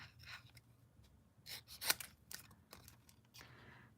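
Scissors snip around the edges of a paper card in a quiet room, a series of small close crisp cuts with one sharper snip, no talking.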